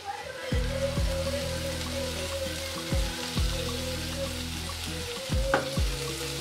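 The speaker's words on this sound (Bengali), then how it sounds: "এই পর্যায়ে দিয়ে দেবো এখন সেই ধনিয়ার গুঁড়াটুক, এটা একটু ভেজে নেব এখন।" Ground coriander fries in a pan for a Mughal-style vegetable paratha filling of eggplant and potato, with a steady sizzle and repeated scraping strokes of a spatula at a slow, uneven rhythm.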